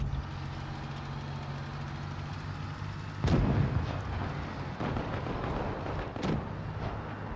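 Tank cannon fire in the mobile game World of Tanks Blitz, two or three heavy booming shots that cut sharply above a steady rumbling engine drone, with no voices.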